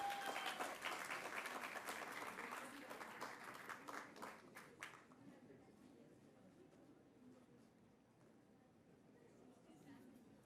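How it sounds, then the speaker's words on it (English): An audience at a radio award ceremony applauds, the clapping loud at first and then thinning into scattered claps before fading out under a low murmur. "Can we please have a huge round of applause?"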